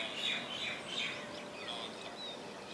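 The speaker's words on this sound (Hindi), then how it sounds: "चिड़ियों की चहचहाट अभी और बढ़ेगी" Birds chirping and tweeting at sunrise, several small calls repeating at a moderate distance over a soft, steady outdoor background with no voices.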